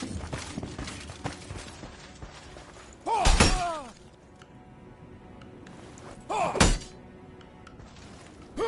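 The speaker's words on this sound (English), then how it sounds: "Stab that cabbage over there" Longsword stab into a cabbage in Mordhau, two solid thunking impacts with a crunchy splintering edge, separated by a few seconds over a steady ambient background.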